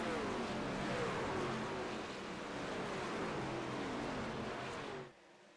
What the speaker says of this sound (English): Oh, I get to hear the trucks right now.